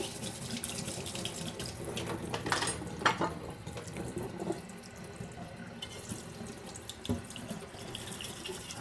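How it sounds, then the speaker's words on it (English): Kitchen tap running while a plate is rinsed, a steady close hiss and splash of water in the sink with small clinks and shifts in the flow, no speech. "So I have to rinse my plate"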